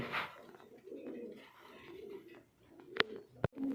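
A pair of Maltese pigeons in a cage coo softly and repeatedly at close range, with a couple of sharp knocks near the end.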